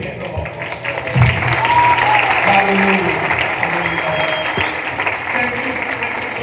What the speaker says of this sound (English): give them a big hand of applause